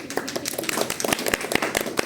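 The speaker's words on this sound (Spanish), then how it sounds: "Ahora sí, un aplauso, compañeros." Classmates clap during a physiology class presentation, a close, irregular patter of hand claps with uneven sharp peaks, fairly loud with no talk over it.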